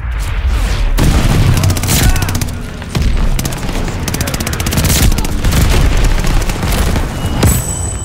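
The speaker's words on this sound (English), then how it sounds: "So you can use any SMG for this challenge. You just have to aim down sights" Rapid SMG bursts crack and boom in Call of Duty Warzone gameplay, loud dense volleys of automatic fire with brief gaps and heavy impacts.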